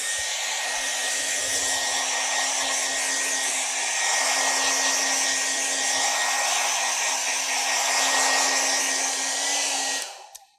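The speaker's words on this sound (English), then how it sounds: "I'm gonna dry this with my hairdryer real quick." A hairdryer on its highest setting blows steadily at a painted canvas, a loud, constant whoosh with a faint electric whine that runs for about ten seconds before cutting off abruptly.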